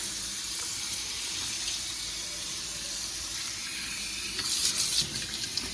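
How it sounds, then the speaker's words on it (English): A kitchen sink tap runs steadily while dishes are washed and rinsed, a constant close hiss of flowing water with brief splashes near the end. "Keep washing and rinsing this so you can have a clean sink."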